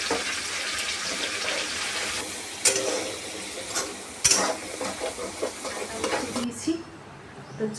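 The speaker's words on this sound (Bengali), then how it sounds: "তো চিকেনটাকে আমি আগে ভেজে নিয়েছি, এখন এটাকে ফোড়ন দিব।" Already-fried chicken being tempered with spices in a pan, giving a steady loud sizzle and crackle with stirring scrapes and a few sharp utensil clanks, fading at the end.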